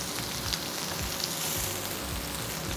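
Squash browns in a hot pan, giving a steady, dense sizzle and frying hiss that stays even and close throughout with no talking.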